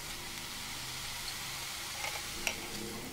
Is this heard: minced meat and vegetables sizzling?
yes